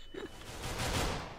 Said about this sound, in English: One gunshot over.